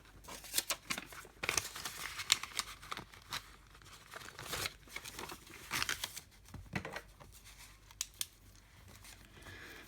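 Paper envelope being handled and filled with cash, giving a steady run of crinkling, rustling and sharp snipping-like rasps, close and fairly quiet, with no talking.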